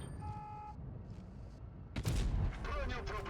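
World of Tanks Blitz audio with a steady hum and faint tones, then a sudden loud K-2 tank cannon blast followed by a rumbling, ringing decay.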